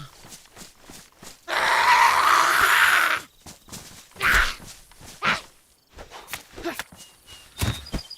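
Zombies scream in a DayZ survival game set on the Livonia map, with a loud harsh shriek lasting over a second and another shorter burst later, amid footsteps and scattered game noises.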